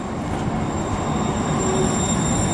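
A light rail train rumbles past at a busy Portland junction where the blue, green and red MAX lines meet, a steady close roar with a faint high whine running through it and no talking.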